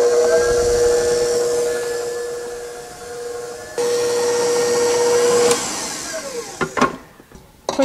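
An electric mixer creams butter and vanilla extract for pecan sandies cookie dough, giving a steady high whirring whine that shifts pitch midway, then cuts off into a few clunks and knocks.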